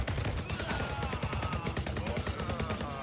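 Rapid automatic gunfire in a shooting video game, a dense fast rattle of shots running continuously at moderate level, with a voice faintly underneath.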